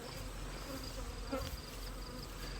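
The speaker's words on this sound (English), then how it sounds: "You can see lots of bees in them." Honey bees buzzing steadily in nucleus hives, a dense, continuous hum from many insects close by with no talk over it.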